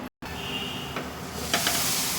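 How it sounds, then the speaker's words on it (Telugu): Tempering sizzles in hot oil in a pan with onions, a loud continuous frying hiss after a brief gap, swelling into brighter crackling bursts near the end. "తాలింపు వేసేసుకుందాం"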